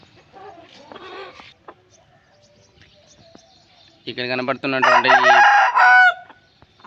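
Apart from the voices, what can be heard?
hen clucking, Bheemavaram cross breed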